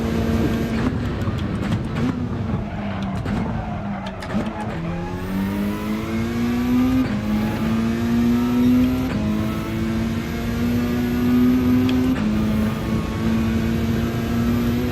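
A Peugeot RCZ race car engine in a racing game, a loud, steady engine drone that climbs in pitch through repeated gear changes as the car accelerates.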